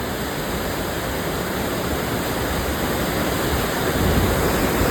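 Flood water of the Ganga river at Haridwar roars in a loud, continuous, broadband rush that stays constant throughout with no voices.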